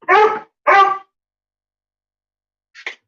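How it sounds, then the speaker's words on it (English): A dog gives two loud, close barks in quick succession, then a short pause and a fainter, brief yip. "She's a dog."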